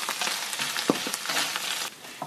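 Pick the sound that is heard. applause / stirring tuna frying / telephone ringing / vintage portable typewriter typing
stirring tuna frying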